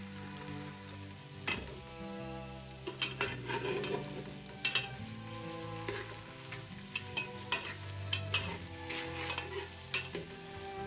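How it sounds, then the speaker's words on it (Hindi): Finely chopped onions sizzle and fry in oil inside a pressure cooker while a spoon stirs them with repeated scraping clicks, steady close sizzling underneath throughout. "प्याज को हमने अच्छी तरह से भूनना है तब तक जब तक इसका रंग सुनहरा ब्राउन ना हो जाए"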